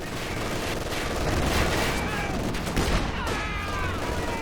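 Dense, continuous gunfire and explosions in a Company of Heroes 2 multiplayer battle, rapid rattling bursts layered with heavier booms, with game voices shouting over the din.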